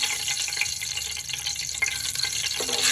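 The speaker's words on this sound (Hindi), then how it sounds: "इसको 1-2 मिनट इसके लिए फ्राई करेंगे।" Whole spices in hot oil for an egg korma: cinnamon, black cardamom, cloves and black peppercorns sizzling and crackling in a pan, a steady close hiss with small pops and a faint scrape near the end.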